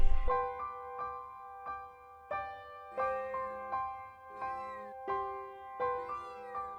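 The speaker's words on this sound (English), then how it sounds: "the kitten meowed as if she was guarding the cage" A kitten meows repeatedly near a cage, with about a dozen short, clear, tonal cries at an uneven rhythm, close and distinct against a quiet background.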